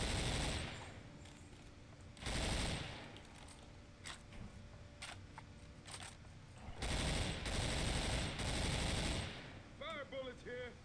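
Video-game gunfire: bursts of rapid automatic shots that come loud and close in several long volleys, with scattered single cracks between them and a voice heard near the end.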